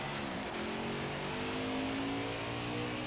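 A NASCAR Heat 5 race car revving hard in a gravel burnout, a sustained high engine whine with rising pitch and steady roar, near and alone.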